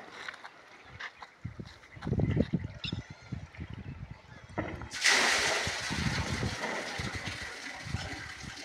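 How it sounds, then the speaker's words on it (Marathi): A 5 HP farm water pump discharges water in an open field, a loud broadband gush of flowing water starting abruptly midway and continuing steadily, with some background noise and low thumps before it. "आणि आता आपण बघूया आपल्या पंपाचा फोर्स।"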